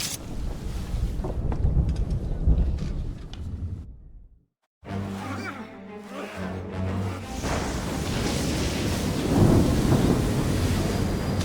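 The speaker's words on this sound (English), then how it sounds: "You wish us to sail into the storm?" A thunderstorm at sea in the video game Assassin's Creed 3 brings loud, rumbling wind and crashing waves, a sudden silent gap, then storm noise building back and rolling on steadily.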